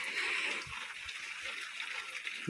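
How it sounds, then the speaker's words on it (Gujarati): Steady rain patters and hisses on a motorbike trip, a dense continuous wash of drops with occasional low thumps, close and fairly loud throughout. "અત્યારે વરસાદ આવી રીતના ચાલુ જ છે"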